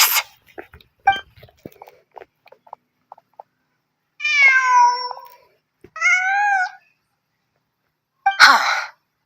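Cat meowing in the Genshin Impact video game: three clear, drawn-out meows after scattered soft clicks and taps, ending with a short sneeze-like burst, no talking.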